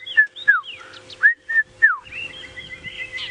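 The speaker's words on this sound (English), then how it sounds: "I can hear a red-chested cuckoo going." Red-chested cuckoo calling on a sunset safari drive: a series of clear, descending whistled notes repeated several times, fairly close, followed by a softer trailing whistle over a low engine hum.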